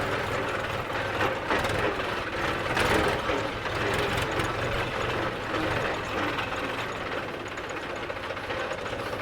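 A Mahindra tractor engine rumbles steadily at low speed while driving into a field, with rattling, clanking mechanical noise running throughout and no voices.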